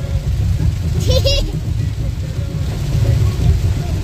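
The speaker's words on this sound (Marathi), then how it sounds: "बघा इकडे अचानक पाऊस वाढला" Heavy rain drums on a moving car on the road toward Murdeshwar, Karnataka, a steady low rumble of water and road noise throughout, with a short burst of a voice partway through.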